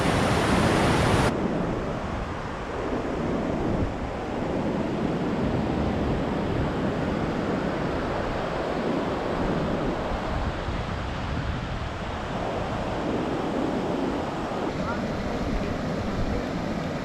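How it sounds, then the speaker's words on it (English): A river rushes through Turtuk in the Nubra Valley of the Indian Himalayas, a loud, steady, unbroken roar of flowing water that holds an even level throughout. "it's this river that makes Turtuk so fertile"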